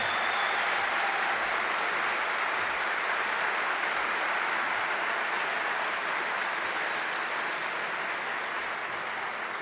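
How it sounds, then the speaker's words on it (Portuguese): Sustained applause from an audience at a public event in Novo Hamburgo welcoming Brazil's economy minister Paulo Guedes, a dense steady wash of clapping lasting throughout at even volume. "a salva de palmas que vão dar agora pelo seu trabalho"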